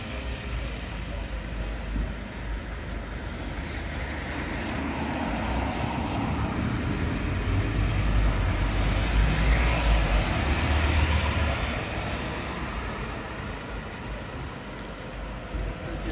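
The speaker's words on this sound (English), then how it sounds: "Then we've got the open top bus running today" An open-top bus passes along a street in Teignmouth, its engine rumble swelling to a broad roar at close range mid-clip and then easing away, with steady outdoor wind and traffic noise around it.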